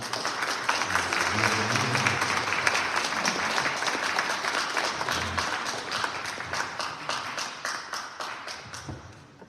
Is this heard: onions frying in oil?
no